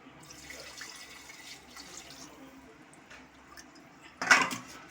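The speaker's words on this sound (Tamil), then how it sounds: "இதை நல்லா பரட்டி விட்டுட்டு இதுக்கு தேவையான தண்ணியை நம்ம ஆட் பண்ணிக்கலாம்." Water is poured into a pot of Tamil-style chicken curry. After a quiet stretch of faint kitchen noise, a short, loud splashing pour comes near the end.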